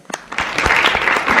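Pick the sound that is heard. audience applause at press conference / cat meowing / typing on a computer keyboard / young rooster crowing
audience applause at press conference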